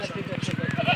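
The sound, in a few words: goat bleating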